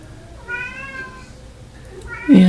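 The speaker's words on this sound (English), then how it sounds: "my cat's meowing outside the door" A house cat meows from the other side of a closed door, two drawn-out, fairly loud cries with a short gap between them and a sharper, louder call at the end.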